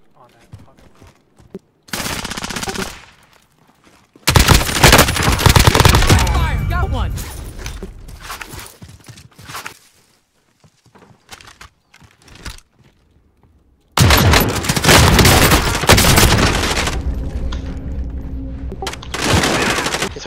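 Dense automatic gunfire in a video game, loud close bursts of rapid shots and booms in several long volleys separated by short quiet gaps, with talk mixed in.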